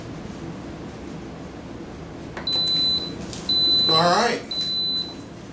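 The control panel of an Instant Pot Duo Crisp air fryer gives three short, high-pitched beeps about a second apart while a person speaks nearby over a steady background hum.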